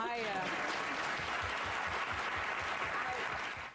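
A television studio audience gives broad, sustained applause that fills the clip, with a voice briefly audible at the start.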